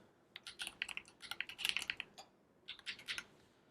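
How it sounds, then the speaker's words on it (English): Someone types a password on a computer keyboard in quick, light bursts of key clicks, two clusters separated by a short pause, close but quiet and with no voices. "We're going to create a super secure password,"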